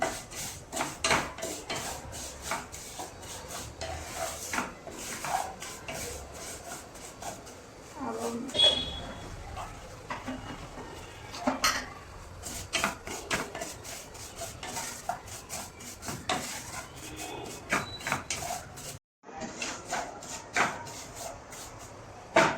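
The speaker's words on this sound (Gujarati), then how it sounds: "આપણે આ સેવ છે ને એમાં શેકી લેવાની છે ઘીમાં" Sev vermicelli roasted in ghee in a pan, with repeated sharp scraping and clinking of a utensil against the pan in an irregular rhythm and faint frying underneath, while a person talks.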